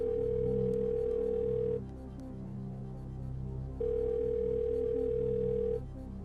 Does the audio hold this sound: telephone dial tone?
yes